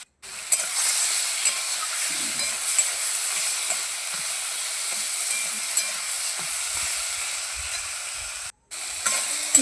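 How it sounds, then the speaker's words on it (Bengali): Tomato with turmeric and salt sautéing in a pan, a continuous close hiss and sizzle of stirring that runs steadily for several seconds, then briefly cuts out near the end. "টমেটোটা ভালো করে কষিয়ে নেব"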